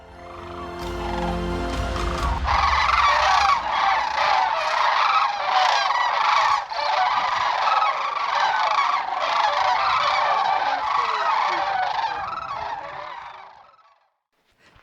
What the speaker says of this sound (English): Back at the campsite, you can still hear the cranes settling in for the night.